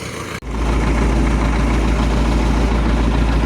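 MTZ 82.2 tractor engine starts abruptly and then runs at a steady, loud idle with a deep, even diesel rumble, close by and uninterrupted.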